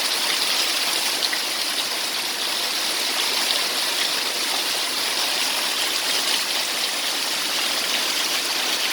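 Heavy rain pouring down, a dense, even, continuous hiss of water with no breaks or voices, loud and close throughout.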